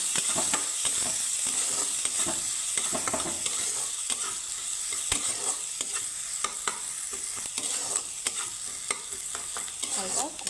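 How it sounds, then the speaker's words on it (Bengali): Chopped onion frying in a pan on a gas stove for a spicy potato and capsicum curry, with steady sizzling broken by repeated scraping stirs, close and fairly loud, no voices. "পেঁয়াজটা আমি হালকা আলাদা আসার জন্য একটু ভেজে নেবো"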